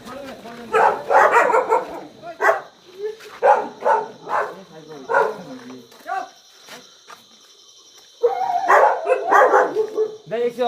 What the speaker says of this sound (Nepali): कुकुर